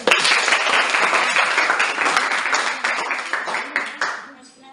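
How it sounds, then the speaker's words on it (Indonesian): A room full of people claps steadily, loud at first and then tapering off toward the end. "Berikan tepuk tangan dulu."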